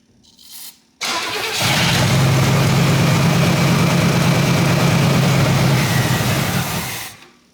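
A 1977 Pontiac Grand Safari station wagon, abandoned for thirty years and with a plugged carburetor, cranks loudly and steadily for about six seconds without catching, after a brief first attempt.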